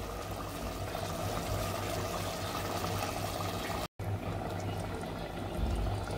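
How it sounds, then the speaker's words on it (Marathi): Hot water poured into a pot of rice with chicken and coriander for chicken biryani, a steady rushing pour heard close and continuous, broken by one brief dropout. "आता मी भात शिजण्यासाठी मी हे पाणी घालणार आहे, गरम पाणी करून घेतलेलं आहे"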